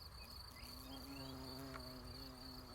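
Bumblebees and bees buzz around flowering sage in a meadow, several overlapping faint drones hovering close and drifting, layered with a continuous high insect whine and no voices.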